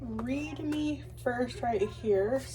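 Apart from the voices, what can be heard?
No everyday noise stands out behind the speech.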